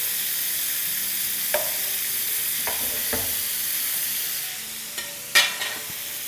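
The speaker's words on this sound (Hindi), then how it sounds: "चिकन को ऑल टुगेदर फ्राई होते हुए 7-8 मिनट हो गए" Chicken pieces frying in a pan for a Middle Eastern biryani give off a steady, soft sizzle, broken by a few brief clinks and stirs near the end.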